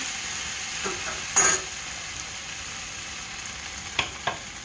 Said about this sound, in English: Mix in this chili powder. I only got a pound of ground beef here.